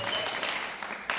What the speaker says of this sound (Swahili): Makofi sasa kwa Yesu Kristo anayetupenda sana.